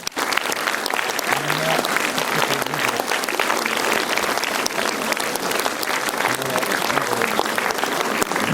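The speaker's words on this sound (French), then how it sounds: "je vous demande de faire un tonnerre d'applaudissements pour tout d'abord son réalisateur, Alexandre Coffre" Cinema audience at a film premiere giving a thunderous round of applause for director Alexandre Coffre, loud dense clapping with some cheering that runs steadily throughout.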